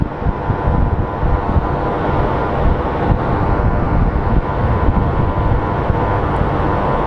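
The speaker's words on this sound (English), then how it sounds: "here comes our plane from Santa Ana" A passenger plane coming in from Santa Ana at Phoenix Sky Harbor International Airport, heard as a steady, broad roar of jet engine and wind noise that holds constant and fairly loud for the whole stretch.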